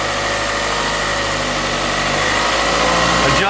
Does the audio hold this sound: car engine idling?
yes